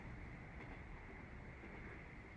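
A steady, muffled rumble fills the inside of an overnight passenger train, a constant broadband hum that stays even throughout with no voices.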